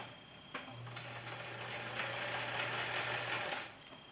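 Sewing machine running a seam on a fat-quarter scarf, a close, steady whirring burst lasting a few seconds after a brief start-up click.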